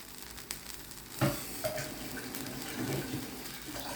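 A corn and cassava flour galette cooks in a greased frying pan, giving a steady, soft sizzle with a few small clinks and pops over it.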